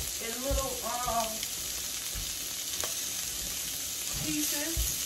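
Eckrich beef sausage, cut into small pieces, frying in a pan with a steady broadband sizzle throughout; a person talks briefly at the start and again near the end.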